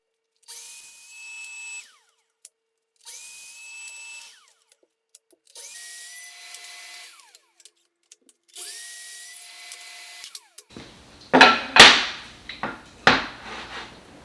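A power tool, likely a router, cuts grooves along 50 mm wood pieces for a mitered cabinet door's center panel, running in four steady passes with pauses, then louder sharp bursts near the end.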